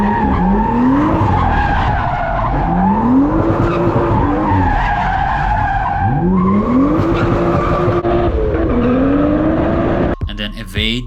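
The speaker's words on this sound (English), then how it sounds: "makes some donuts around a cop car" A car spins donuts around a police car in New Jersey, its tires letting out loud, repeated rising squeals in a rhythmic cycle over a constant engine roar, with a brief rattle at the end.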